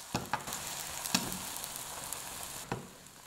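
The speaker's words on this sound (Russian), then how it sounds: "На сковородку наливаю растительное масло. Также растительное масло можно заменить на сливочное. Выливаю сюда яйца." Beaten eggs fry in vegetable oil in a pan, giving a soft, steady sizzle with a few brief clatters of the pan or spatula, close and quiet with no talking.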